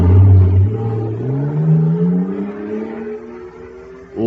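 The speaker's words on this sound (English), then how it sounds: "Wow! Listen to that fire-controlled jet car go now." A radio drama sound effect of a super-fueled jet car roaring off, a loud close engine whine that rises steadily in pitch as it accelerates, then fades before a fresh surge at the end.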